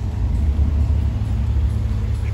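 Ferrari 812 GTS supercar on a Monaco street, heard as a steady, deep engine rumble that stays fairly close and even throughout the short stretch, with no voices.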